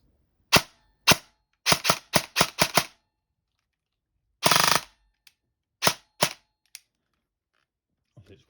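Sharp snapping shots from a Specna Arms SA-H04 HK416C airsoft rifle on full auto with an 11.1V battery, loud and close, in short irregular bursts with brief pauses, ending in a few scattered pops.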